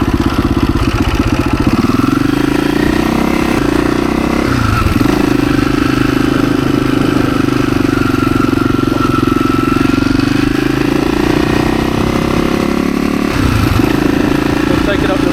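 A dirt bike rides out along a road, its engine a loud, steady, close droning putter that dips briefly twice as the rider shifts or lets off the throttle, with someone speaking over it.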